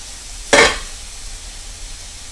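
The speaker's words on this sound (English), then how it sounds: "I'm going to take the meat and drop it right on the hot onion pan." Ground turkey dropped into a hot pan of onions lets out a sudden loud sizzle burst that quickly fades to a low frying hiss.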